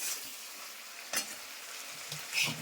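Fish chorchori masala fries in oil as a steady close sizzle, with a few soft scrapes where the mixture is stirred. No one is talking.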